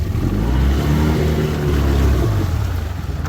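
A jet boat's engine throttles forward on a river, a loud, steady mid-pitched drone with strong low harmonics that holds close and continuous throughout.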